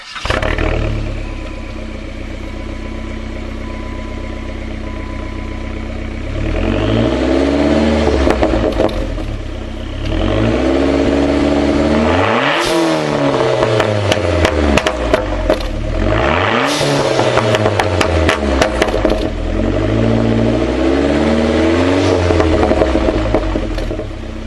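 Mid-2000s Chrysler PT Cruiser GT with a turbocharged engine and larger intercooler accelerating hard, revs climbing and dropping through several gear changes over a sustained loud run, with a brief lull between pulls.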